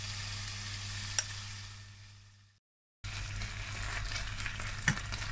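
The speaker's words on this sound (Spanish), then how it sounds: "Para sofreír el pollo junto con el bacon tengo ya preparada esta cazuela al fuego con un hilito de aceite y a fuego vivo" Chicken and bacon sizzle in a thick-bottomed nonstick pot over high heat with a thin drizzle of oil, a loud steady frying hiss broken by a brief silence and a couple of sharp clicks of a nylon spatula.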